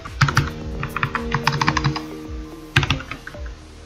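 A number tapped out on a computer keyboard, crisp close key clicks in two quick bursts separated by a short pause, with no voice over them.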